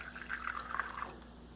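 Fuel drains from a Cessna 310 gas tank into a sampler cup, a faint close trickle of liquid lasting about a second before fading out.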